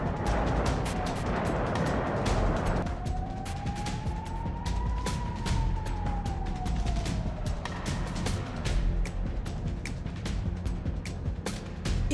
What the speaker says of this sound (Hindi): आसमान में गूंजते सायरन, जमीन पर धमाकों से ब्रायंस्क दहल उठा।